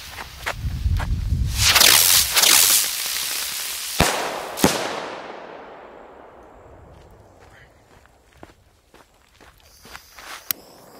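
Supreme Fireworks Buzz Bang fireworks buzz and hiss loudly at close range, then give a couple of sharp bangs. A long, fading crackle follows, and a few scattered pops trail off at the end.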